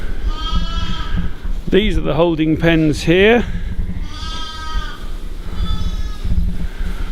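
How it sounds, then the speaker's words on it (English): Suffolk sheep bleat in a busy lambing shed with holding pens, one loud close call bursting out in the middle while fainter bleats sound around it and someone talks throughout. "There's a Suffolk that's just given birth to triplets at the back."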